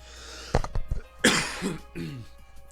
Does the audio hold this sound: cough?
yes